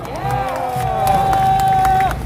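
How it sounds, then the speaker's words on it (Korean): A large crowd at a political rally cheers, shouts and claps, loud and close, with a sustained yelling voice riding over the applause and crowd noise. "큰 박수 부탁드립니다"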